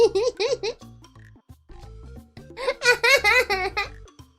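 A frog croaks in a rapid series of loud, nasal, bouncing calls, with a short pause between two bursts.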